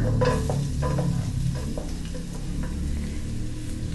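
Shallots frying in cooking oil or butter in a wok, a steady dense sizzle with stirring scrapes of a utensil against the pan, close and continuous throughout.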